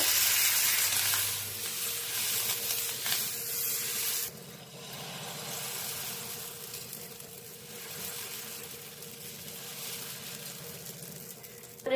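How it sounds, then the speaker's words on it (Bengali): Tomato dosa batter sizzling on an oiled tawa over low to medium heat, a steady soft hiss and crackle, louder at first and settling into a quieter continuous fry. "লো টু মিডিয়াম আঁচে ভেজে নেব।"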